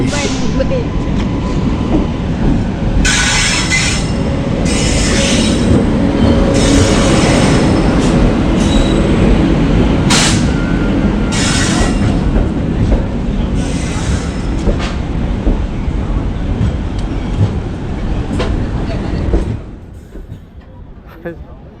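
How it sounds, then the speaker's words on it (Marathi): A passenger train pulls into a busy Mumbai station with a steady rumble of wheels and carriages and bursts of squealing brakes. Crowd chatter and voices run underneath until the rumble fades near the end. "मुंबईला जाते आहेस. ट्रेन आले."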